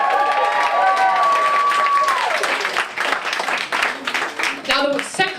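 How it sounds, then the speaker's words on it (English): Audience applause at a women's comedy festival, a burst of clapping and some cheering from the crowd that follows a spoken line and rolls on, mixed with voices before fading. "Round of applause for my nana, please."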